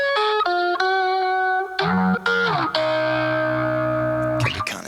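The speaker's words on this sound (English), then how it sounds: "it's a very tinny distortion" Tinny, lo-fi distorted synth tones from a BOSS VO-1 vocoder, sustained buzzy notes that step through a short phrase, loud and continuous with no talking.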